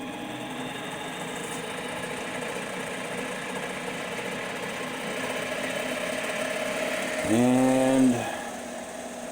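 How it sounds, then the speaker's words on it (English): A homemade CNC lathe starts up and runs, a steady mechanical hum with motor tones that swell and rise briefly near the end, under a short spoken word. "So we'll start the lathe."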